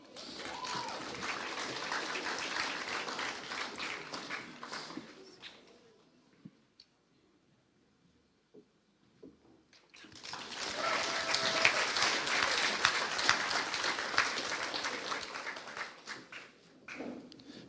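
An audience applauds at a school senior prizegiving, two bursts of dense clapping separated by a few seconds of near quiet, with pigeons cooing faintly during the lull.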